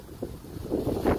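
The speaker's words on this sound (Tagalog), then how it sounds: "Kaya ito yung hangin, mainit, warm yung hangin" Steady hot, dry desert wind in California buffets the microphone, a low rumbling roar that swells and gusts louder toward the end, with no voices.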